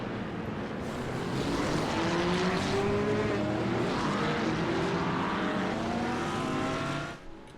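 GT3 race cars roar down the straightaway at Virginia International Raceway, a loud, sustained engine howl with rising pitch as they pass, swelling and then fading at the end, without speech.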